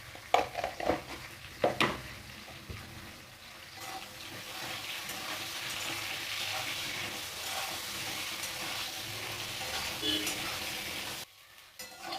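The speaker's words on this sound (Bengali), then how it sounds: "দেখো বেগুন ভাজা হয়ে গেছে" Eggplant slices sizzle steadily in hot oil in a kadai. A few sharp utensil clinks and stirring scrapes come early, then the frying hiss holds evenly before cutting off near the end.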